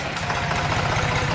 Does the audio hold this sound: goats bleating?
no